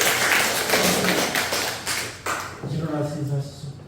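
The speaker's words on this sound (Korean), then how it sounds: "한번 박수 한번 해주실까요?" A church congregation clapping after being invited to applaud a testimony speaker, close dense applause filling the first couple of seconds and then fading, followed by someone speaking over the last taps.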